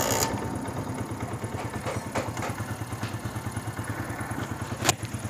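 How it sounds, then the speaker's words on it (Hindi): A 70cc CD 70 motorcycle engine, freshly fitted with a new timing chain, idles with a steady, rapid thumping putter, running close and unbroken, with a brief sharp clank near the end. "तो मोटर बाइक हम स्टार्ट करेंगे"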